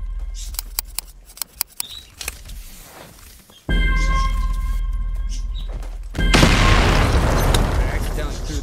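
A bomb explodes in the Pirates VS Ninjas video game: light clicks and taps come first, then a sudden loud boom opens a long rumbling roar that swells further near the end.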